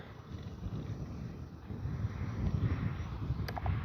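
Wind blowing across an outdoor RC jet flying field: steady low rumbling buffet against the microphone, fairly constant and moderately loud throughout the short stretch.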